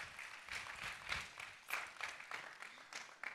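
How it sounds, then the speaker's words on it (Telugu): A church congregation claps briefly during a sermon, a faint scattered round of hand claps that swells and fades in irregular bursts, distant and quiet. "Can we clap for them?"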